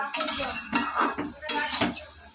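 Taro leaves are stirred in a pan with a metal spatula, producing close scraping and clinking strokes in a few uneven bursts over a faint sizzle.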